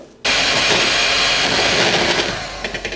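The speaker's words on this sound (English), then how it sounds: "Yep, so I'm whisking these up." An electric whisk beats egg whites in a bowl for a chocolate log: a loud, steady motor whirr that starts abruptly and runs without a break, with a slight fluttering toward the end.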